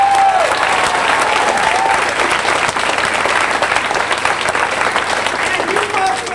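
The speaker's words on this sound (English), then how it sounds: "Round of applause for all three of those agencies." Sustained applause from a theater audience at a comedy stage performance, dense and steady throughout, with cheering voices mixed into the clapping.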